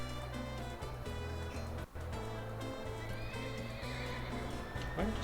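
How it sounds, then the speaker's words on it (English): A horse whinnies amid the busy ambient soundscape and music of the Tropico 6 city-building game, the neigh blended into a dense, continuous bed of layered game audio. "Why did I just hear a horse?"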